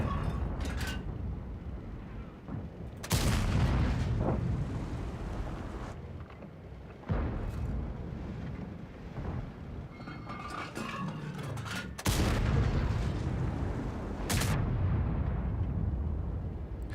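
Tank cannon shots firing HE shells in an online tank battle boom out loud and sharp, several separate heavy blasts spaced a few seconds apart with rumbling tails and quieter battle noise between.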